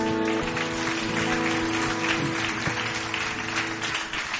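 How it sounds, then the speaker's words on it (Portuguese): A church congregation applauds the Lord on a joyful baptism night, a steady wash of many hands clapping alongside sustained music tones, continuous and fairly loud throughout. "Você pode aplaudir o Senhor?"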